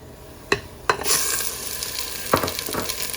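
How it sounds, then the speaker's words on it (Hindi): Half a kilo of chicken drops into hot oil with browned onions for a chicken and chana dal curry. A couple of clunks come first, then a loud, sustained sizzle with stirring scrapes and no talk. "जब प्याज ब्राउन हो जाएं तो इसमें आधा किलो चिकन डाल देंगे"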